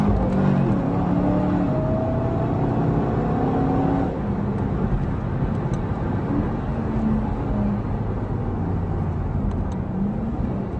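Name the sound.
Cadillac car driving a lap on a track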